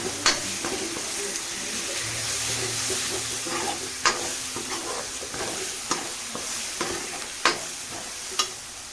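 Ginger, garlic and green chillies fry in hot oil with a steady close sizzle, punctuated by sharp scrapes and taps of a spatula stirring the pan every second or so; no voices.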